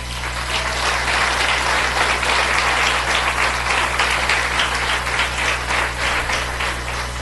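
Sustained crowd applause, dense and steady, with a low hum underneath and no talking.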